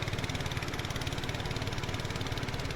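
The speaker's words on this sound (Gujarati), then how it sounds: "ટ્રેક્ટરનો અવાજ આવે ને" A tractor engine runs at a steady idle with a continuous rhythmic low chug, moderately loud and close, with no speech over it.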